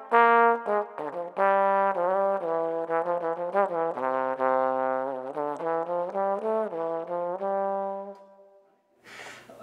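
An alto trombone plays a lively jazz melody alone, notes sliding and bouncing steadily, ending with a soft breathy sound.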